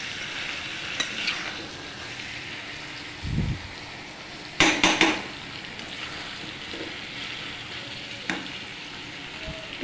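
Chicken cooks in a pan with a soft, steady sizzle, broken by a few close clatters and scrapes as it is stirred.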